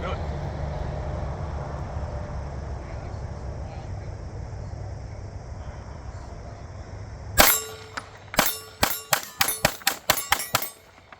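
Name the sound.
Oracle Arms 2311 pistol firing ten rounds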